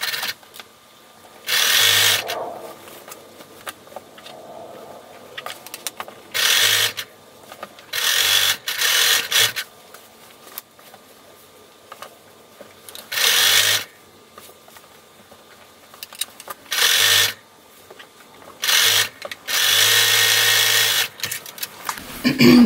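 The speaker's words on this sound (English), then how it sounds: "Now you're going to sew each sleeve into each arm side, so you're doing both sleeves." Sewing machine stitching sleeves into the arm sides of a child's robe, running in about nine short bursts of steady whirring separated by pauses, close and alone.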